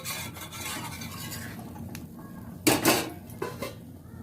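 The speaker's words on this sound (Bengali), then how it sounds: "এবার ঢাকা দিয়ে দেব মেরে দিই দিয়ে ঢাকা দিয়ে দেবো" A metal lid clanks down onto a pot of chicken being boiled, a few sharp loud clatters late in the clip after a steady background of cookware noise, with no talking.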